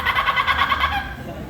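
A parrot mimics the laughing call of a kookaburra in a rapid, rhythmic burst of loud cackling notes that pulse about twice per second, then trail off near the end of the clip.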